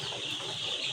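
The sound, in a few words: brown cock chicken chicks clucking in a poultry shed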